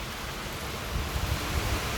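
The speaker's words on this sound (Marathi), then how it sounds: "हा बघा पाऊस भरमचट काही दिसत नाही काचेतून" Heavy rain pours onto a car windshield during a drive, making a dense, even wash of noise that swells slightly toward the end. No voices.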